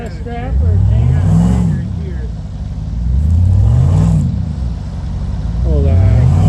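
A stuck vehicle's engine revs in repeated rising surges with rough, loud bursts, while people talk over it nearby.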